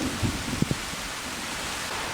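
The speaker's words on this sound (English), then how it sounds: "As rain falls through the unfinished roof, work comes to a halt." Dense, hissing heavy rain pours steadily through an unfinished cabin roof, a broad wash of noise with a few soft thuds near the start.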